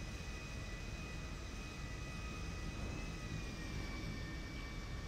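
An airplane in Grand Theft Auto V, in Los Santos, roars while running in reverse: a steady, unbroken engine drone with a faint whine riding on top, constant for the whole stretch with no voices.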